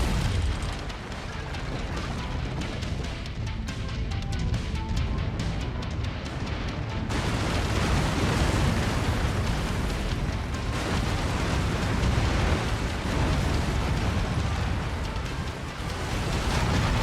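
Mech weapons blowing apart an enemy base in MechWarrior 5: Mercenaries, a dense, continuous barrage of loud booming explosions and rumbling blasts, with a fresh surge of detonations partway through.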